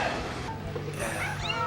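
A kitten's short meow sounds in a TV episode, a brief rising cry over a low background murmur.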